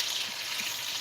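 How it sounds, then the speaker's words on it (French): Meat sears in a hot pan as it is browned on all sides for a Flemish carbonnade, giving a steady, dense sizzle with no breaks or voices. "le sport, c'est de colorer la viande sur toutes les faces"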